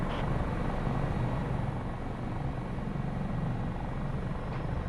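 A Coast Guard HH-65 Dauphin helicopter flies in the flight simulator MSFS 2024, its turbine and rotor producing a loud, steady, close drone with a rumbling low end that holds constant throughout, with no talking.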